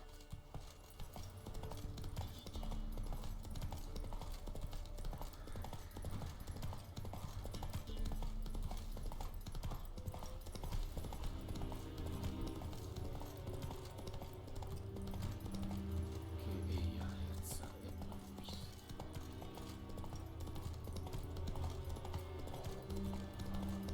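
A horse trots along in The Witcher 3 video game, its hooves making a fairly quiet, continuous clip-clop throughout, blended with low ambient game sound and music.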